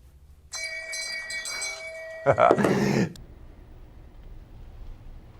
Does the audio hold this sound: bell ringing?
yes